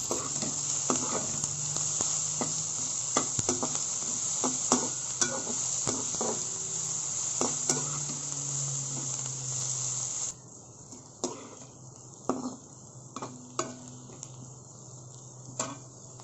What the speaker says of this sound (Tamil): இப்போது வெங்காயமும் பச்சை மிளகாவும் நல்லா வதங்கிடுச்சு.